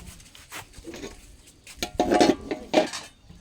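Pans and dishes clatter and scrape as they are handled in a kitchen, with a few clinks and rattles that grow louder near the middle.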